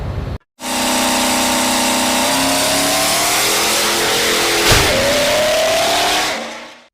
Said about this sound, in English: Behind us, this is D&J Precision Machine Enforcer Cummins engine